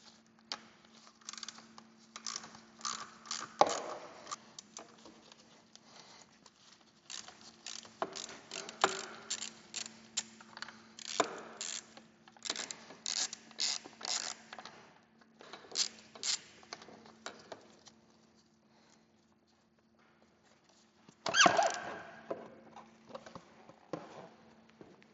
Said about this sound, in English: First we have to remove these 4 bolts holding the front fender, and for this we need Allen key 5.